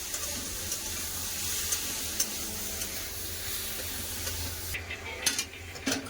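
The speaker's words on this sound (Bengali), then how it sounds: "সবগুলো সবজির সাথে খুব ভালো করে মশলা কষে দেবো" Spices and mixed vegetables for a fish-head chorchori stir-fried in a pan, with a constant close sizzle and intermittent sharper scrapes of the spatula toward the end, no voice.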